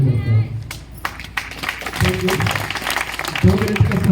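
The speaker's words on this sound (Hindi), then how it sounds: "शांतिपूर्वक ताली तुली बंद, बहुत बजा दी" An audience at an open meeting claps, scattered hand claps and taps rising and falling in loudness, while someone speaks over them into a microphone.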